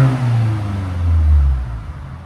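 A 2016 Mercedes C300 with a 2.0L turbo engine and straight-pipe exhaust revs up, its deep, loud drone swelling and falling back over a couple of seconds with no talk.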